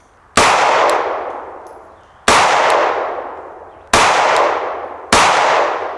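Pistol shots, four in total and spaced unevenly, each striking a steel target with a sharp ringing clang that decays slowly; loud and close, with no voices.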